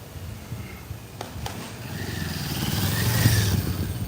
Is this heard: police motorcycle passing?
yes